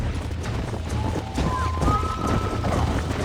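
Horses gallop in Red Dead Redemption, their hooves drumming in a fast, continuous clip-clop that is loud and close, with a whinny-like tone rising briefly midway.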